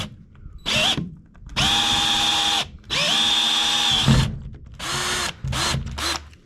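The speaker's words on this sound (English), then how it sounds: "Drilling the first hole." A power drill bores a hole into a diesel tank of soft metal, the motor whining in several loud bursts with pauses between them and a short stuttering finish.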